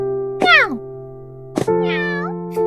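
A cat meows twice close by, the first call sliding downward and the second wavering, over a sustained background tone and a couple of sharp clicks.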